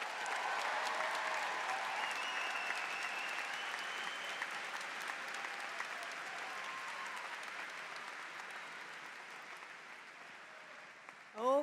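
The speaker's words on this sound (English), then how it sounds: "How about some applause for Paul College?" A large audience at the UNH Paul College commencement claps steadily for the seated Paul College graduates. The applause holds at moderate volume for about eleven seconds and gradually thins. A brief tonal sound enters at the very end.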